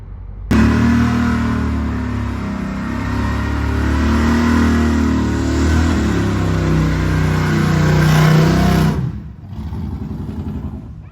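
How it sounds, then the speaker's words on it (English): A car at a Power Tour event in Bowling Green does a parking lot burnout, its engine revving hard and loud and close for about eight seconds with rising and falling pitch, then cutting off abruptly to a quieter idle and background noise. "Now that's parking lot burnout."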